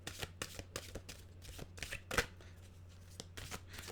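Oracle mantra cards are shuffled by hand close up, giving a quiet run of soft riffling flicks and taps in an uneven rhythm with no talking.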